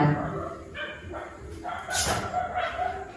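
Small dog barking at home, a few short yipping barks near the mic mixed with people talking.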